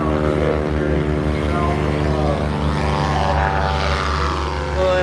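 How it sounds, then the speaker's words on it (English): Several ultralight planes, trikes among them, take off together at an airfield, with their propeller engines droning loud and steady from close by and a layered, slightly shifting pitch. "a bunch of planes taking off together"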